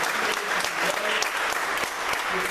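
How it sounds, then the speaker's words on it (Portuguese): A church congregation claps together in a steady, dense burst of applause that fills the room, with a few voices mixed in underneath. "Vamos dar uma salva de palmas"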